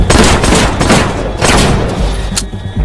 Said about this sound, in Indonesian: ia pun segera mengeluarkan senpinya dan langsung melepaskan beberapa tembakan sebagai ancaman